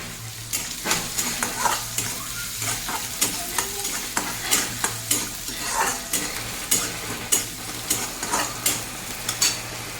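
Onion frying and being stirred in hot oil in a pan for street-style masala Maggi noodles, a steady close sizzle with repeated scraping stir strokes and no talk.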